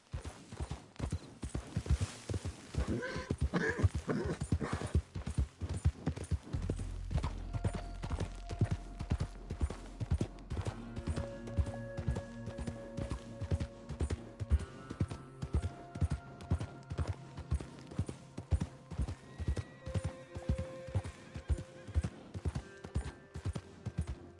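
Horse hooves clip-clop at a steady walking pace in the Western video game Red Dead Redemption 2, an even, continuous rhythm over a low background with occasional brief tonal game sounds.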